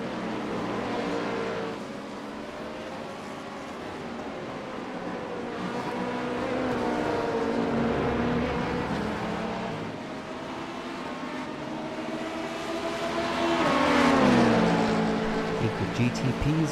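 LMP2 and GTP prototype race cars in the iRacing simulator, racing in an IMSA event, give a steady, loud engine drone with pitch rising and falling through gear changes, and a second car's engine swells alongside near the end.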